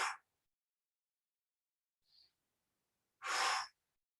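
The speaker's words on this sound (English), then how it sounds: "Breathing in and out." A person breathing in and out during a floor stretch, with two clear, close breaths separated by near silence and a faint short sniff between them.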